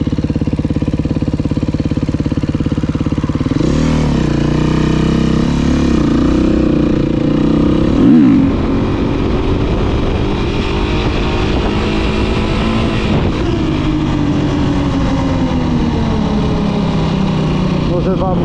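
A motorcycle engine used for wheelie riding idles and revs up close, its tone climbing and dropping in a few swells before settling into a steady running drone.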